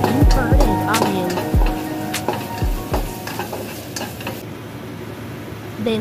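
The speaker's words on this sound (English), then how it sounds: "Saute ginger garlic fermented bean curd and onion." Ginger, garlic, fermented bean curd and onion sizzle in hot oil, with a spatula clanking and scraping against the pan in a loud, steady rhythm for several seconds.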